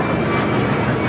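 A jet airliner takes off from runway 25 right at LAX, its engine roar a steady, loud broadband rumble that holds unbroken from start to finish.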